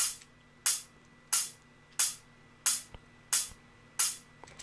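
Programmed hi-hat pattern in FL Studio, seven crisp evenly spaced hits repeating at a steady rhythm, each with a short sizzling decay, alone with no other instruments.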